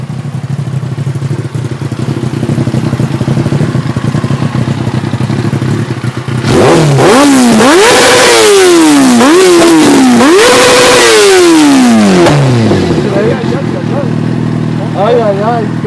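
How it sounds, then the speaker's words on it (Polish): A Yamaha R6 sport motorcycle idles, then revs hard several times in quick climbing bursts, loud and close, before dropping back; voices are faintly present. "Pokaż, jak R6 kręci."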